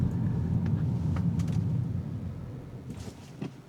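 A car brakes firmly to a full stop in everyday driving, a low road and engine rumble fading as the vehicle slows, followed by a brief soft thump near the end.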